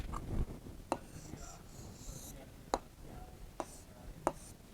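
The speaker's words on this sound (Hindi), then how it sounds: "ऐनक लिख लिया हमने, अब गजरा लिखते हैं।" A pen scratches out the Urdu word gajra on paper, with soft strokes and a few crisp taps spaced a second or two apart, quiet and close against a faint room background with no speech.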